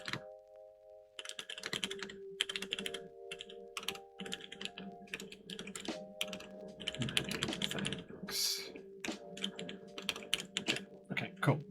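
Rapid clattering keystrokes on a mechanical computer keyboard under test during repairs, bursts of close typing with brief pauses, over a faint steady hum of background music.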